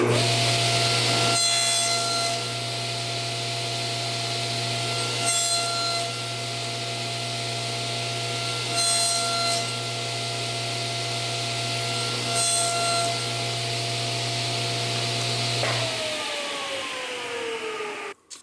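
Table saw fitted with a miter sled slicing through small square wooden stock for chess bishops, a steady loud motor hum carrying several brief cutting bursts before the blade spins down near the end.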